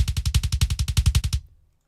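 Rapid drum sample triggered through the ReaSamplomatic5000 sampler in REAPER, about a dozen hits fired in quick even succession like a roll, loud and close, then cutting off sharply into silence.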